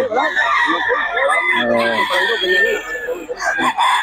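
Gamecock roosters for sale at a Filipino farm crow loudly and repeatedly at close range, with hens clucking around them. Other birds fill the gaps.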